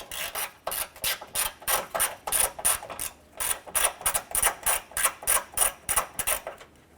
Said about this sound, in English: On the top of the grill here, you have two 8mm bolts going into the upper support. Loosen and remove these bolts.